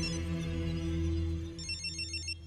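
A telephone rings in an Indian comedy film scene, a loud steady electronic trill sounding alone for a couple of seconds, then giving way to a brighter tinkling tone.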